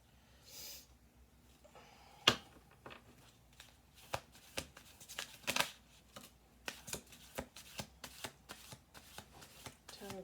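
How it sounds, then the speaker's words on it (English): A deck of cards being shuffled at close range, with a series of crisp riffling bursts and soft card snaps in an irregular rhythm, faint breathing in between and no talk. "We'll do 2 more shuffle throughs."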